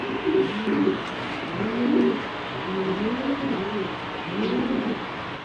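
Racing pigeons, a paired male and female, coo close by in a loft, with several soft repeated coo phrases rising and falling over a faint steady background hum.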